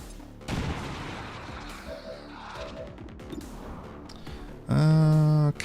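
A sharp frag grenade blast in XCOM 2 gives a short crash with scattered debris clatter. A buzzy tonal game alert follows right after, and there is no talk.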